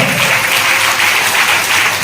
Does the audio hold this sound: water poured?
no